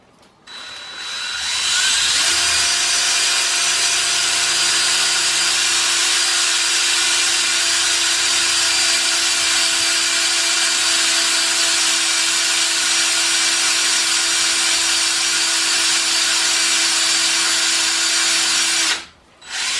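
A power drill whines steadily at high pitch for a long stretch, boring continuously into hardwood for a bipod mount on a CZ 455 Varmint Evolution rifle, then stops with a brief final rev.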